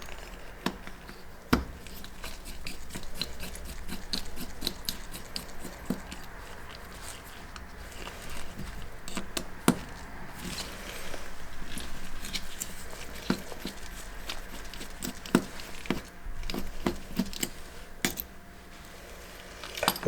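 Small screws come out of the breech-lock mount of a Canon FD 50mm f/1.4 SSC lens, making faint, close, irregular ticks, clicks and light metallic taps over a quiet background.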